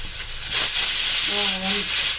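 A pressure cooker on a stove vents steam as a loud, continuous hiss, swelling briefly partway through as its whistle goes off.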